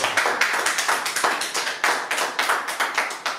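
A church congregation claps in a steady, fast rhythm, many hands together filling the room loudly and without a break.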